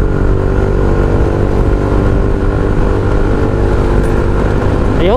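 Motorcycle exhaust on an Exos X6 revving loud and close, a steady engine drone that rises in pitch toward the end as the throttle opens, with no talk.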